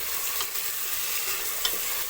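Chopped tomatoes with salt stirred in a hot pan for Bengali chicken curry, a dense continuous sizzle with faint scraping beneath, close and steady, without any talking.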